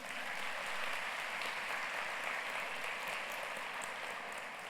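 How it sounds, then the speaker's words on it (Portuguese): A church congregation applauds, a dense, even wash of many hands clapping that holds steady for several seconds without a break. "Dê uma salva de palmas para Jesus."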